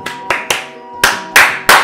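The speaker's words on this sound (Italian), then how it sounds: "Li senti gli applausi da qua, eh?" Applause bursts from the Clash Royale mobile game: six sharp, crisp clapping swells in quick irregular succession, each fading fast over steady tonal game music.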